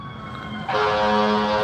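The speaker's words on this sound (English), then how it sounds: "we get a real nice fire truck going by" A fire truck siren wails loudly, its tone rising and sustained as the vehicle draws near.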